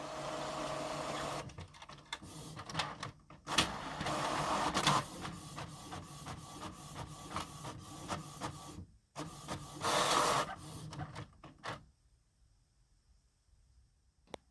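A printer prints a shipping label for a sold item's package, close and fairly quiet, with rapid rhythmic mechanical clicks and whirs in bursts, brief pauses, then falling silent.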